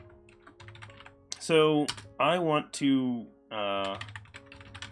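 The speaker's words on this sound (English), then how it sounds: "And so you guys can see my typing." Computer keyboard typing while programming a C# chat bot, quick soft key clicks mostly buried under a man's speech.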